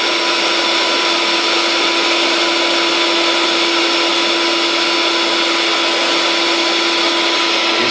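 A newly unboxed electric bed pump drones loudly and steadily as it inflates an air mattress, with the whine and rushing air holding at a constant level from start to finish.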